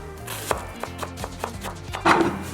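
A knife cuts an onion into thin slices on a board, about six soft, steady chopping taps close by with no voices.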